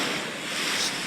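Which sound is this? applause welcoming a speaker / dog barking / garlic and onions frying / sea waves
sea waves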